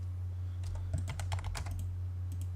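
Quiet keyboard typing and mouse clicks while drafting in AutoCAD, a short cluster of light taps over a steady low electrical hum.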